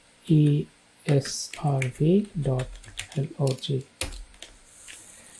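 Keys on a computer keyboard clicking in short bursts while someone talks throughout, the light tapping running under his voice.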